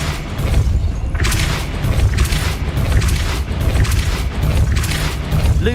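Repeated Depulso spell casts in Hogwarts Legacy land as a series of booming bursts with whooshing impacts over a low, constant game rumble, several hits spaced about a second apart.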